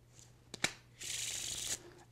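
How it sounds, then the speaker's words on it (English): A deck of playing cards is squared with two quick taps, then given a single riffle shuffle that whirs for about a second before ending in a soft settle, close and clear in a quiet room. "I'm going to give them one little shuffle."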